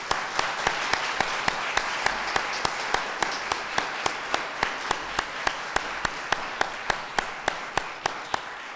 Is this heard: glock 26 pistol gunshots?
no